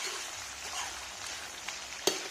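Duck frying in a pan for a duck and pumpkin curry, a steady soft sizzle and crackle, fairly quiet, with one sharp pop near the end.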